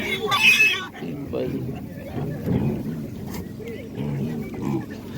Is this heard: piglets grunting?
yes